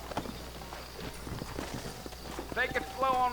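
Horse hooves in the Red Dead Redemption game clip-clop in a steady walking rhythm close by, with someone speaking over the hoofbeats and a brief whinny-like tone near the end.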